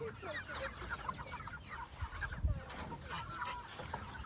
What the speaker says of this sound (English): So these are their meat birds back here in their tractor.